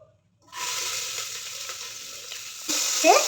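After a brief silence, fennel seeds and shallots hit hot oil with a sudden loud sizzle for mutton nalli soup. The frying hisses steadily, then flares up again as more goes into the pan.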